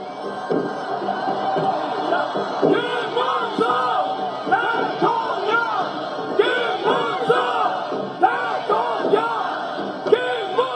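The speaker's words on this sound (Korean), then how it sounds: "시민 여러분 큰 박수와 함성으로 우리 김문수 후보를 함께 해주십시오." A large crowd at a presidential campaign rally cheers and shouts together, a sustained roar of many voices with occasional louder whoops rising above it.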